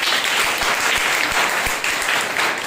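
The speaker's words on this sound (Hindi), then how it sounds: "जोरदार एक ताली बजाइए।" A church congregation claps loudly at a Sunday morning service celebrating its 15th anniversary: dense, sustained applause fills the whole stretch at steady volume, with a faint voice underneath.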